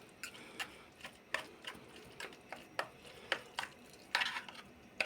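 A fork beats food in a bowl while a tuna and Chinese cabbage salad is being made, giving light, quick tapping clicks in an uneven steady rhythm, soft and close with no talking.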